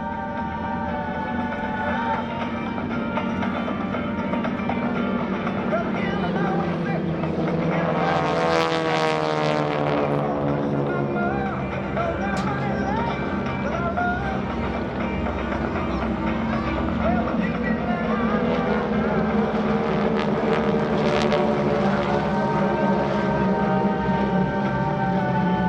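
GEICO Skytypers four-ship formation of propeller planes passing at an airshow, a steady drone of piston engines swelling as the formation closes and sweeps by, with a narrator talking over it throughout.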